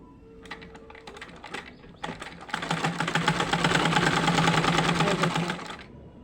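A sewing machine stitches fabric. A few short bursts of needle clatter start it off, then a steady fast mechanical rattle runs for several seconds, close and fairly loud, before stopping abruptly.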